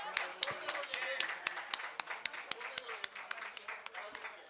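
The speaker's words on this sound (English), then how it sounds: "A big round of applause for all of them." Steady rhythmic clapping from a small group, crisp and fairly close, with individual claps clearly separate.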